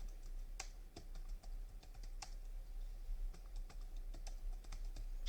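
Keys clattering on a computer keyboard as text is typed into a graphic design program, an uneven run of close, crisp taps alone over a faint low hum.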